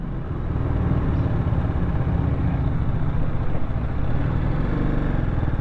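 A TVS Apache RR310 motorcycle launches hard on a highway with a loud, steady engine roar and wind rush that holds unbroken throughout, with no talking.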